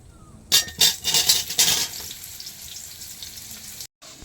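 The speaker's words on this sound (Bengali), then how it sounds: "ফোড়নটা হয়ে গেছে, এবার আমি সব কেটে রাখা পটলগুলো দিয়ে দিচ্ছি।" Halved pointed gourd pieces hit hot oil tempered with spices, setting off several loud bursts of sizzling that settle into a steady frying hiss, then a brief silence near the end.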